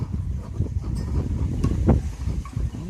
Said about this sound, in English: Wind is really annoying. It's really getting up and spoiling the whole thing, really.